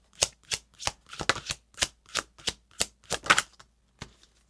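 A deck of tarot cards is riffled and shuffled up close, producing a quick series of about a dozen crisp, papery bursts in an uneven rhythm with no talking.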